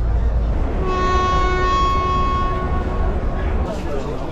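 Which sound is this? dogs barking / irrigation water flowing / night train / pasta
night train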